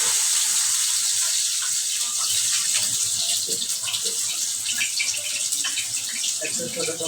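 Pieces of sweet pumpkin dropped into hot oil for frying, giving a bright, continuous hissing sizzle that holds steady with small crackles and pops throughout.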